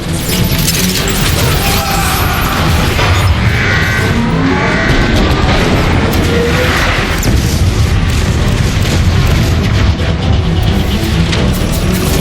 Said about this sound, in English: Rocket incoming!